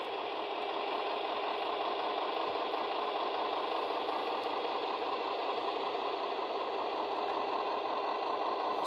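A Piko HO scale Krauss Maffei ML4000 model locomotive with a DCC sound decoder, crawling at very low speed and giving a steady, even diesel engine drone that holds unchanged throughout, no voices.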